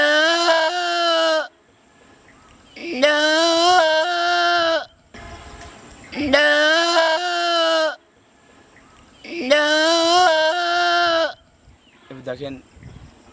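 A man mimics a goat, giving four loud sustained bleats in a regular pattern with short pauses between them, close to the microphone.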